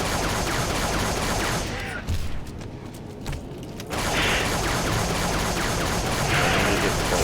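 Carbine fire in Halo 3 on Legendary difficulty, a dense, loud burst of rapid shots with mechanical clatter that drops away briefly mid-stretch and then resumes.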